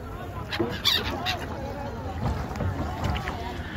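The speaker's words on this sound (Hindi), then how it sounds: "दाना पाने के बाद चिड़िया हम लोग का साथ नहीं छोड़ रही हैं।" Birds that were fed follow a boat at the Ganga-Yamuna confluence at Sangam, honking and calling near and far over the steady noise of the boat on the water, while people talk.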